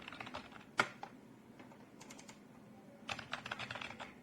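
Light keystrokes tapped on a keyboard connected to a Huawei P40 Pro phone used as a desktop setup, coming in short clustered bursts with a sharper click early on, fairly close but quiet, with no voices.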